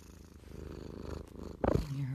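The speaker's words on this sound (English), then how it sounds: "You can hear her purring. She's really happy." A steady, low purr from someone's cat rumbles close by, and a voice rises over it near the end.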